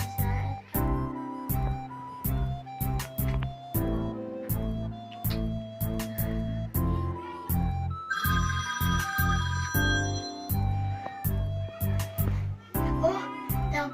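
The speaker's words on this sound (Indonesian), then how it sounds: "Oh, telepon si Dina" A phone ringtone plays a repeating electronic melody in short rhythmic pulses, fairly close, with a brighter chiming passage partway through.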